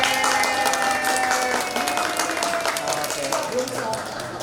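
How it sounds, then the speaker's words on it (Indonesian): Wedding guests at a church blessing ceremony applaud together on a countdown, a dense patter of clapping filling the room beneath sustained tones and voices. "Hitungan ketiga semuanya tepuk tangan ya."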